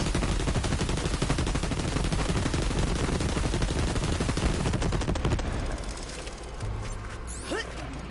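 Rapid-fire rockets launching in Borderlands 2 from the Krieg DLC: a loud, fast stream of repeated firing bursts for several seconds, then thinning out into a few trailing blasts and a rising whine.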